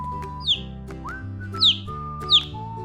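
Three short, high peeping squeaks at even intervals, a voice imitating chicks, heard close over soft music.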